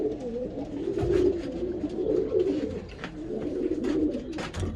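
Pigeons in a loft coo continuously, several soft overlapping throaty coos and rolling calls, moderately close and fairly quiet, with faint background rustling.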